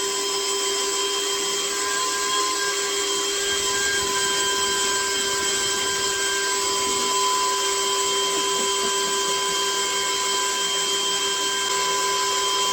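An electric drill spins noodles for a ramen-eating stunt, its motor holding a steady, loud, high whine for the full length with no pauses and no talking.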